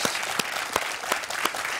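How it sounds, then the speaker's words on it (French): A French quiz show studio audience applauds, steady brisk clapping from a crowd, moderately loud and fairly close, with a few sharper claps rising above the wash. "Caroline, je vous applaudis."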